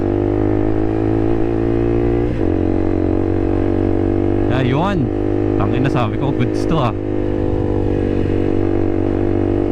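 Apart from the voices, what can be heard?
motorcycle aftermarket exhaust revving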